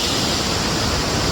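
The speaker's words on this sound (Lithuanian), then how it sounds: "Atėjom prie čia kažkokio didelio krioklio." A large waterfall roars as a dense, steady wash of broadband noise, loud and close, with no voices over it.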